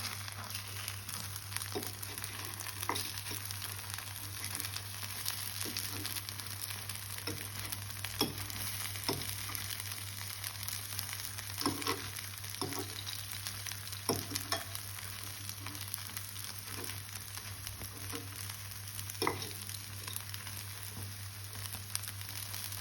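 Appe batter sizzles steadily in a pan, with soft scraping and tapping as the pieces are turned over, a quiet, continuous frying hiss throughout.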